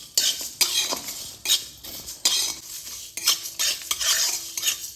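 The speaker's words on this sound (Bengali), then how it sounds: "এরপর আমি অনবরত নাড়াচাড়া করে মশলাগুলো ভেজে নেব" Whole spices for Maggi masala dry-roasting in a pan, stirred continuously: a rhythmic run of close, bright scrapes and clinks of a metal spoon against the pan, about two strokes per second, with only a faint sizzle beneath.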